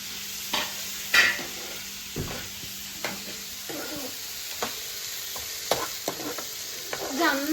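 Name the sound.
tomatoes, carrots and onions frying and stirred in pan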